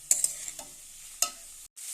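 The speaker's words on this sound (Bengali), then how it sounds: "হলুদ দিয়ে ভালো করে ভেজে নেব।" Chopped banana stem with turmeric frying in a pan gives a soft hiss, with a few sharp clinks and scrapes from stirring and a short silent gap near the end.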